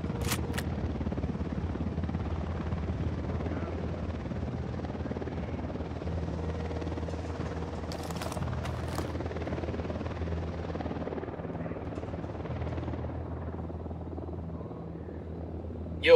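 Helicopter flying in the Ghost Recon Wildlands video game, a steady rotor drone that holds loud and continuous throughout, with a few sharp clicks and faint game effects layered over it.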